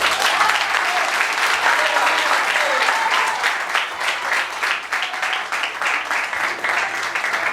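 A church congregation at a Portuguese-language worship service breaks into sustained, dense applause, a loud continuous wash of clapping with a few voices rising through it.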